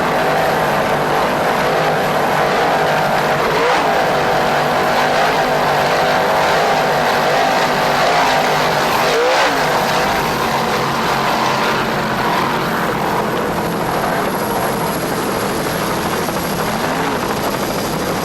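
Offshore racing powerboat engines at full throttle during a 1994 offshore grand prix race, a loud sustained roaring drone with steady high whine, continuous and close with slight pitch shifts.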